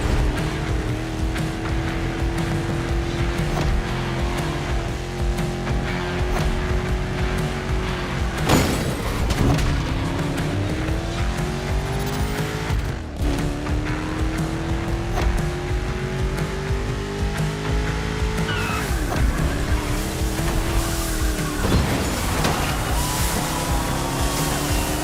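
A muscle car races hard in The Crew Motorfest, its engine roaring loud and continuous with shifting pitch, punctuated by sharp tire squeals and a few thumps as it corners at speed.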